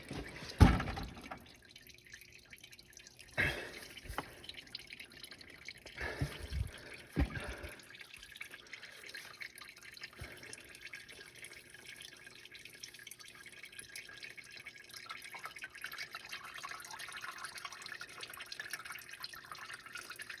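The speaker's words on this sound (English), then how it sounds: "Maybe I can take the filter off and still drain the oil." Hot engine oil drains from a 2016 Dodge Journey 2.4L in a faint, steady trickle with a few drips and knocks early on.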